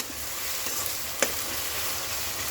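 Onion frying in a pan, already turning lightly golden, gives a steady soft sizzle with faint stirring and one brief louder scrape near the middle; no one speaks.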